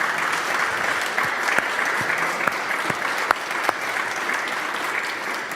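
An audience applauds at a democracy forum with the Defence Minister, steady clapping with a few sharper claps standing out, filling the room throughout.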